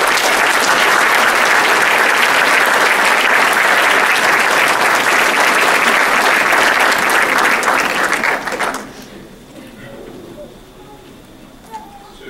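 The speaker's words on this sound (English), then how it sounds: "Welcoming Reverend Lamb to the podium with a warm round of applause." Warm applause from a large commencement audience welcoming a reverend to the podium, loud dense clapping sustained for about nine seconds before cutting off to quiet room tone.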